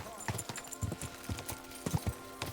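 Horse hooves from a video game, Kingdom Come: Deliverance II, clip-clop in a quick, uneven rhythm of soft thuds, fairly faint against a background hiss.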